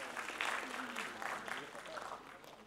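Applause from the audience at a live stage event raising funds for Nepal earthquake victims, a steady broadband patter running under a voice on the microphone for the whole stretch.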